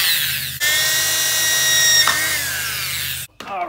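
A power drill whines steadily, close and loud, as it bores a hole through a Honda Hawk 250 motorcycle wheel rim for a rim lock. The pitch shifts partway through, then the drill stops abruptly near the end.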